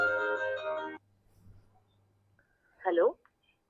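A mobile phone ringtone plays loudly as a repeating electronic melody for about a second, then near silence, followed by a brief voiced sound and a short click.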